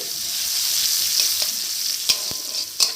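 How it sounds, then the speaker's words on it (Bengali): Chopped onion frying in oil in a kadai gives a close, continuous hiss and sizzle, broken by a few sharp clicks of a stirring spoon against the pan. "একটু আমি ভেজে নিচ্ছি"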